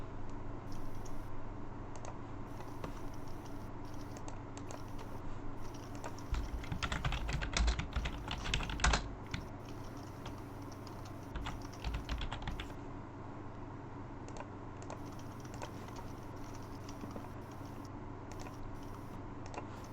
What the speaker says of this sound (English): Everybody is typing.